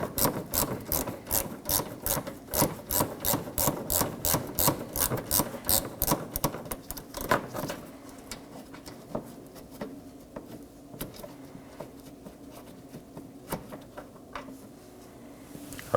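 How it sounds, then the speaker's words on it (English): A ratchet removes a 10mm bolt from the fender liner of a Nissan Maxima, giving quick rhythmic clicks for several seconds before fading into quieter, scattered handling noises. "Now let's remove that bolt."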